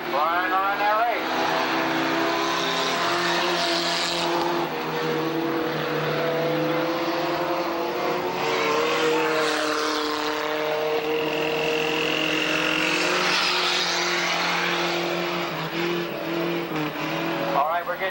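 Racing motorbikes roar around a dirt speedway track in Tonopah, a steady loud engine drone with rising revs, blended with a commentator talking over a public address and crowd noise throughout.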